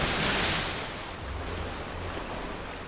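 A waterfall in the Tomb Raider game roars as a broad, loud wash of rushing water, strongest at the start and then settling into a steady, slightly quieter churn, with no voices.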